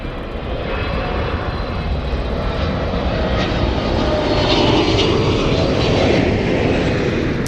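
A big Emirates Airbus A380 jet in NBA livery at LAX roars loudly and steadily, its engine noise swelling slightly toward the middle and holding strong to the end, with no talk.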